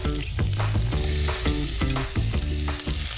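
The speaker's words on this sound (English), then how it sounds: "I'm going to brown my chicken first. Oh, that's the sizzle that I want." Chicken browns in hot vegetable oil, a loud, continuous sizzle and crackle with repeated stirring scrapes and clatters in an irregular rhythm, and no talking.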